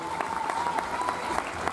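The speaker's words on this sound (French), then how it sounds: "On peut l'applaudir aussi, hein." Steady applause from a crowd at the Miss Doubs 2018 pageant at the Foire Comtoise in Besançon fills the moment, with a faint tone humming underneath.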